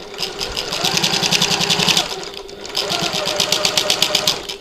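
A sewing machine back-stitches a button lock bag at a double pin, running in two steady rapid bursts with a brief pause between, close and clear.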